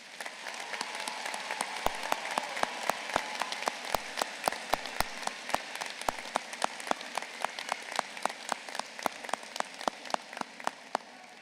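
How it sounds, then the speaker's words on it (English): A commencement crowd gives graduating students sustained applause, with dense steady clapping and sharp individual claps standing out throughout. "Let's give these students a round of applause."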